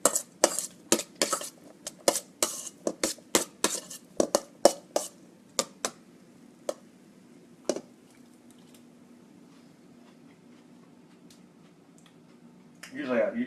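A spoon clinks and scrapes in a bowl while tomato caper relish is stirred, a quick run of sharp clatters near and fairly loud, then quiet, with a faint murmur of a voice.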